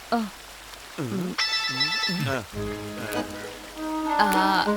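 A telephone ring with a repeating warbling tone, heard under overlapping voices talking, fairly close and steady throughout.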